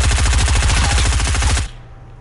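Rapid submachine gun fire from a Fortnite Battle Royale match, a loud, continuous burst of closely spaced shots for about a second and a half before cutting off abruptly, with no talking.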